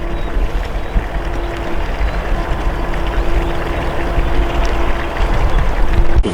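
A motorboat pounds across waves on open water, with a continuous loud engine drone and rushing water and wind noise throughout, steady and close.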